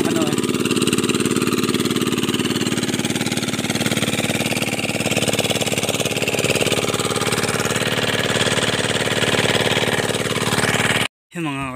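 An engine runs with a steady, loud, rattling drone that holds unbroken for about eleven seconds before cutting off abruptly at the end.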